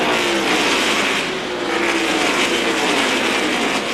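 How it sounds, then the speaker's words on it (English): Stock race cars roaring past on the track during the 2002 Ford 400, a loud continuous engine howl with pitch shifting as the cars pass close by. "Lap cars scooting by to the inside"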